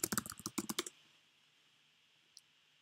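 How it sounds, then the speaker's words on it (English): A quick burst of about ten keystrokes on a computer keyboard as a password is entered, close and crisp, followed by near silence and a single faint click. "now type in your password"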